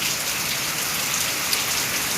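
Rain falling in Odisha, a steady, loud, even hiss of dense drops hitting surfaces, unbroken and close for the whole moment with no voices.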